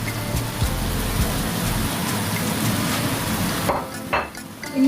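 Capsicum and onion fry in oil over a high flame, a loud dense hiss like heavy rain that holds steady, then drops away near the end as a few clatters sound.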